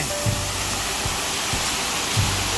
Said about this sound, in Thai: ตอนนี้เรามาอยู่ตรง ข้างหน้าน้ำตกแบบใกล้ๆเลยนะฮะ